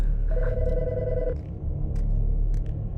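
A telephone rings in the video game Autopsy Simulator 2024 with a steady electronic trill lasting about a second over a constant low hum, followed by a few faint clicks.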